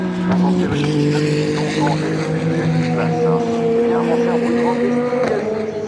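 Ferrari number 51 racing car arriving at the finish of the 2023 Le Mans 24 Hours, a loud steady engine drone close by that rises and falls, with crowd noise and a commentator talking over it.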